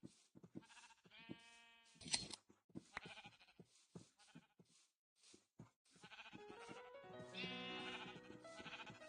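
Sheep bleat repeatedly in the Minecraft video game, a series of wavering calls spread across the stretch with short pauses, the later calls fuller and overlapping, alone without talk.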